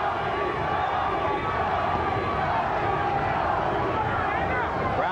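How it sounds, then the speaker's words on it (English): A large boxing arena crowd chants a fighter's name, Gatti, during his bout with Angel Manfredy, a steady dense roar of voices that fills the space throughout. "Crowd chanting Gatti"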